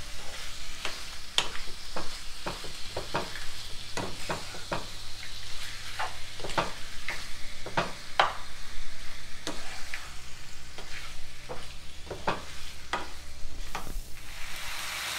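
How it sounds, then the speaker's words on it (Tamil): Pepper chicken masala stirred in a frying pan, with a steady sizzle under repeated sharp scrapes and clinks of the spatula against the pan, close and continuous with no talking. "நல்லா மசாலா எல்லா பக்கமும் படுற மாதிரி இதை நல்லா மிக்ஸ் பண்ணி விட்டுக்கலாம்"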